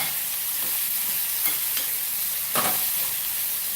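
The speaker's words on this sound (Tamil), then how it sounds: "இதை நல்லா வதக்கிக்கலாம் இது நல்லா வதங்கட்டும்" Tomatoes sautéing in a pan for tomato rice, giving a steady close sizzle and hiss throughout with a few scraping stirs of a spoon, and no voices.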